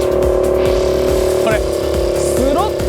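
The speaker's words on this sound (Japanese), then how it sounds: "スロットルガバ開けでこれなんマジでちょっとダメだこれ。" A Suzuki Choinori scooter's small engine held at full throttle gives a steady, droning hum that stays close and constant throughout, with a few faint higher chirps over it.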